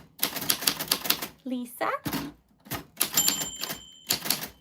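Rapid mechanical typewriter keystrokes clatter in bursts close by, with a bell ding ringing out partway through, broken up by short stretches of a person talking.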